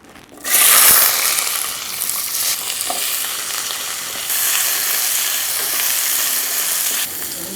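Loud, steady sizzling of onion, garlic and tomato sautéing in hot oil bursts in after a brief quiet, with occasional stirring scrapes in the pan.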